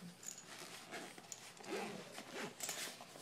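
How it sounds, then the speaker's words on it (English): A zipper on a soft, padded red-and-black laptop case for a Lenovo ThinkPad T530 is pulled open in a quiet, close, continuous rasp with slight variations in speed. "So now I'm going to unzip it."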